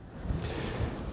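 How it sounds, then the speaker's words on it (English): Steady low rumbling wind buffeting the microphone on a winter motorcycle ride on a BMW F 900 XR, with gusty thumps throughout and no talking. "I apologise for the wind"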